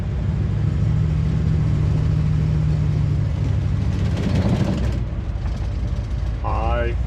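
A 1969 Dodge D100 pickup, parked for 20 years, with a 323 rear end and a slightly loud throwout bearing, pulls away on a dirt road. Steady, loud engine rumble with mechanical rattle throughout, and someone talking over it.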